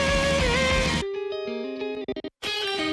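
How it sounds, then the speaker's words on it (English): A K-pop music video track gets a distortion effect: a full, dense mix drops abruptly into a thin, processed texture that stutters and cuts out briefly before the full sound slams back in. "that little distortion"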